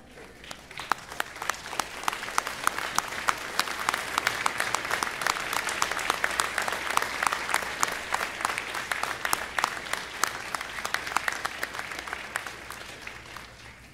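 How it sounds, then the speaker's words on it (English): A large graduation ceremony audience claps steadily for over ten seconds, swelling in the middle and tapering off toward the end. "please turn and face your loved ones and give them a round of applause of thanks"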